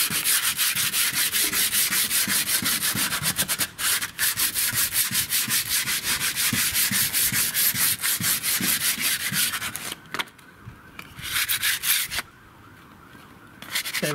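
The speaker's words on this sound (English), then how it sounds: "rubbing down obviously going to make it a lot smoother, blending any areas where the paint's flaking" Hand sanding on flaking painted soffit wood before repainting, a loud, close, continuous scratchy rubbing in quick back-and-forth strokes, with a couple of short pauses near the end.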